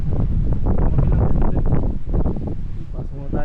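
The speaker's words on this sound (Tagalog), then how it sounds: "Sheesh, ang hangin nga lang." Wind blows outdoors at a high viewpoint, buffeting the microphone with a constant low rumble under a person talking excitedly throughout.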